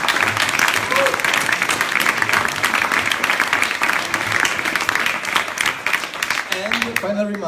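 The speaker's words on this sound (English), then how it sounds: "Another big applause to all the Speck&Tech team here and all the helpers" A crowd at a Speck&Tech augmented reality tech event applauds loudly and continuously, and a voice comes in near the end as the clapping thins.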